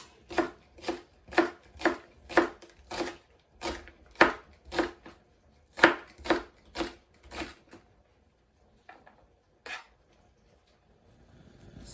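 Knife chopping through ginger on a board, about fifteen crisp, evenly paced cuts up close, then a few scattered light taps before it goes quiet.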